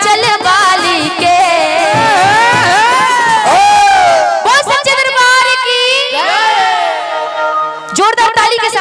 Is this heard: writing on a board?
no